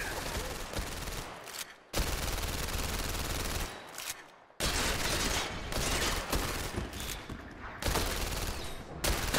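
Gunfire rattles at the shooting range in the PlayStation VR Worlds game, dense loud bursts of shots that fill the clip with only brief pauses between volleys.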